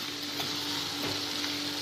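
Green chilies fry in a hot pan with a continuous loud crackling sizzle and a faint stir partway through, close up and without speech.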